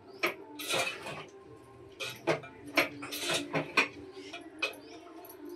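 A spoon stirs dried fish curry with tomatoes in a pan, making irregular scraping clinks and clanks of metal on metal, roughly a dozen distinct strokes over a quiet background.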